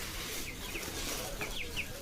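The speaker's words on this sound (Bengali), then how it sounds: "একটা মুরগ আনছি, দুইটা মুরগি আনছি।" Light Brahma chickens give a few soft, short clucks at a distance against faint background noise.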